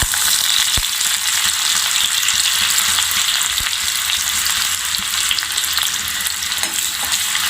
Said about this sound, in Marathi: त्यामध्ये आपण बारीक कापून घेतलेला आलं लसूण टाकूया